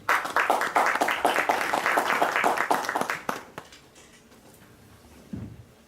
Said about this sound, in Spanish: para quien también le pido por favor un fuerte aplauso